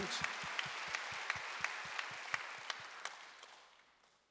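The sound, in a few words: congregation clapping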